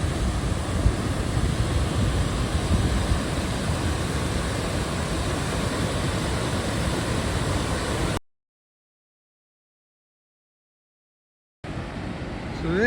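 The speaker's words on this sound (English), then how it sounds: "This is the waterfall at Glen Allen" Waterfall at Glen Allen roars as a steady, dense wash of rushing water close by, cutting out briefly before resuming.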